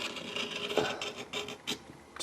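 A hand tool rasps along a plastic scale model panel to re-scribe a line, giving several short, close scraping strokes in an uneven rhythm with no talk.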